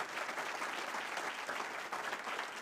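An audience in a church setting applauding in thanks, a steady dense wash of many hands clapping continuously, moderately loud with no break.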